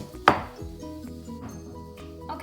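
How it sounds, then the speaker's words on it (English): Ginger, garlic and mint leaves being crushed for an immunity-boosting kadha drink: one sharp, close pounding knock followed by a few softer thuds and rattles. "I'm trying to crush the ginger, garlic, and the mint leaves"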